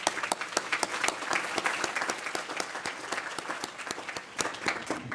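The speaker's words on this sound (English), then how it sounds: "I think it's worth giving her a round of applause." A room full of people at a formal event applauds, dense steady clapping with sharp individual claps standing out, sustained for several seconds without voices on top.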